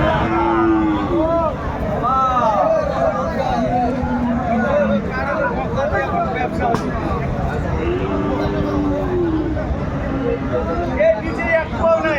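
Cattle moo repeatedly at a livestock market in Dinajpur, some near and some farther off, over a busy crowd of people talking loudly.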